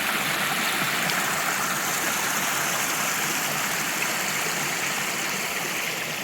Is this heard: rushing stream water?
yes